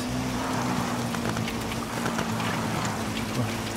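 Steady, loud rain in the Dakar 18 motorcycle rally video game hisses continuously throughout, a dense wash of patter with a low engine drone beneath.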